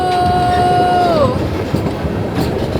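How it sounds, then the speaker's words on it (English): Train rolling along the rails near Hoorn in the Netherlands, heard from inside a carriage as a loud, steady rumble; a high tone at the start slides down and fades, leaving the running noise. "And the train is moving again."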